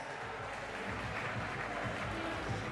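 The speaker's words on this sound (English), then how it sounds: "One more round of applause, ladies and gentlemen, for our main event winner, David, the Smiling Assassin, Martinez." A crowd claps at a Coastal Combat 5 fight event for the main event winner, a short burst of steady, fairly faint applause with a murmur of voices mixed in.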